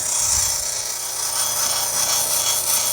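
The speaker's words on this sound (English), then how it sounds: "So let us gently remove the crud" Abrasive scrubbing of crud off a rock held in cold water, a continuous loud rasping, rubbing hiss close up with no talk.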